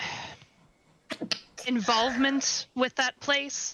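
A sneeze bursts out at the start of a tabletop horror role-playing session, followed by a short pause and then people talking close by.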